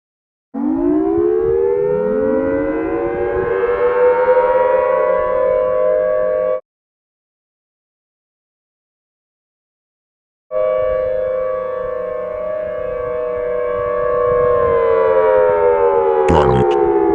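Federal Signal Whelen tornado sirens during a test: a loud, steady wailing tone rises and holds for several seconds, stops for a few seconds of silence, then returns at full strength.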